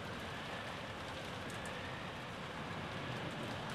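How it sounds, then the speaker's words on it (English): Steady rain in the video game Umineko When They Cry falls in a dense, even hiss, unchanging and without pause for the whole stretch. "We couldn't stay in the rain forever."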